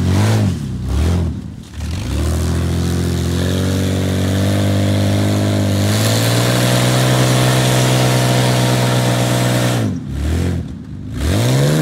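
A new Ford Explorer 4x4 engine roars loudly while mudding off-road, holding a steady strained rev for several seconds, rising in pitch midway, then easing off before a brief surge near the end.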